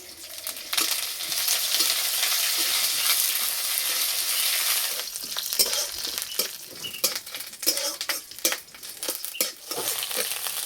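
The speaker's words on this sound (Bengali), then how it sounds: "কারি পাতা ভাজা হয়ে গেছে, খুব সুন্দর একটা সেন্ট বেরিয়েছে।" Curry leaves frying with whole mustard seeds and slit green chillies in white oil in a kadai, a steady loud sizzle with crackling pops and occasional stirring clinks, no voices.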